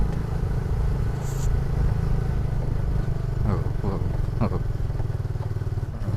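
A 2010 Yamaha Fino motorcycle engine runs while riding on a residential road, with a steady close drone and a few clattering bumps along the way.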